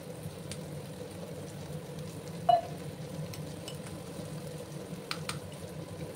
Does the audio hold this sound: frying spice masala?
yes